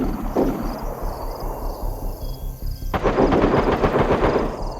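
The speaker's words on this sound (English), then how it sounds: "other players getting attracted to the sound of the gunfire" After a quieter stretch, rapid repeated bursts of gunfire in the video game DayZ erupt and keep firing, loud and close, until the end.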